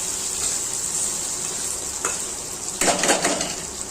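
Vegetables stir-fried in a pan for an oats dish, a steady close sizzle with a louder burst of scraping and stirring near the end, no talk.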